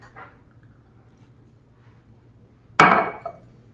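A knife halves a potato on a cutting board: one sharp, close chop near the end, preceded by a faint tap, in an otherwise quiet kitchen.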